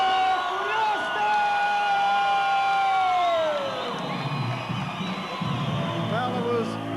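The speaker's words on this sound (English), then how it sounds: "The crowd here enjoys the verdict." Pro boxing arena crowd cheering a disqualification win, with a dense, sustained roar of shouts and whoops that swells and holds throughout, and a voice rising above the din.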